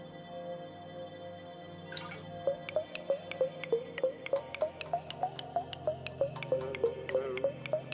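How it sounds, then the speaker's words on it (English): A pouring effect from the video game Psychic Cat plays as a quick run of bright, watery plinks, each a different pitch at random, repeating in a steady rhythm after a brief splash. "the noise when it pours is sort of like cycling through like a bunch of different notes at random"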